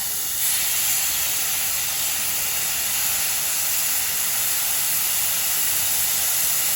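Mushroom balls frying in ghee in a pan, a steady close sizzling hiss that stays even and unbroken throughout, with no voices over it.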